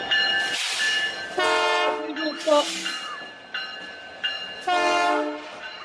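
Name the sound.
CP holiday train arriving with train horn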